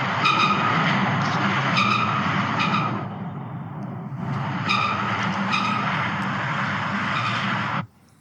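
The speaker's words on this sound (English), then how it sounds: "that's basically the expansion joint squeaking as the cars go over" A bridge expansion joint squeaks and rumbles as cars pass over it, two long loud passes of tire roar with sharp squealing bursts, separated by a brief lull.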